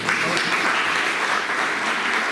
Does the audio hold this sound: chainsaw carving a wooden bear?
no